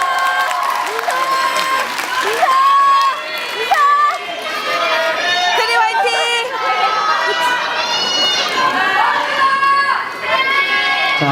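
A kindergarten audience of parents claps and cheers before a children's samulnori performance. Lively applause mixes with excited children's voices and shouts, with chatter running through the whole stretch.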